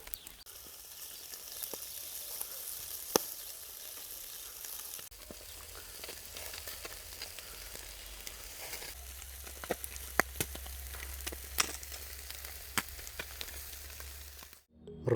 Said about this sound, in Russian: Все зашкварчало.